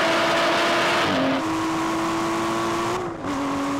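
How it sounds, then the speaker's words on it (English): Aston Martin V12 Vantage at full throttle in a drag race, a loud sustained engine drone that dips briefly at each of two quick gear changes before pulling on again. "Don't miss any gear shift, every last bit of revs, come on."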